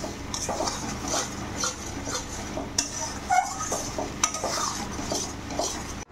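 Dried fish chutney being stirred and sautéed in a pan, a spoon scraping and clinking against the metal in repeated strokes over a soft steady sizzle, close and without talk.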